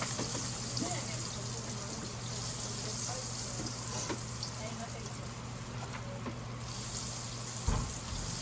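Butter sizzling in a frying pan before bread goes in, a soft steady crackle that stays faint and continuous, with a voice talking over it.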